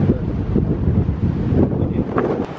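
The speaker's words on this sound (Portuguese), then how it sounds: "Tá muito forte o vento." Strong Hurricane Irma wind roars steadily into the microphone for about two and a half seconds, heavy buffeting gusts with the wash of surf and waves underneath, no voices.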